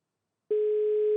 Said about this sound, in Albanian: Zilja po bie dhe uroj që Sajmiri